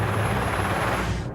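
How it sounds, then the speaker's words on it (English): A helicopter's rotor produces a steady, close, loud thumping drone with a broad rushing whine, heard alone without speech. "I can hear the blades of a helicopter."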